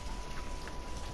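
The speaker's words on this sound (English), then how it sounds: "It's raining so damn bad" Heavy rain pours down, a dense, even hiss of falling water with no break across the short stretch.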